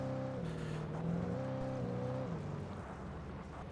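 A car driven in the game Alan Wake Remastered, its engine droning steadily with the pitch rising and falling as it shifts, a moderately faint, continuous motor hum with no voices.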